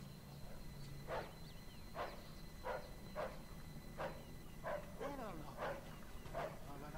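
A dog barks repeatedly in the Mafia 2 video game, ten or so evenly spaced barks, moderately near, over a steady low background hum.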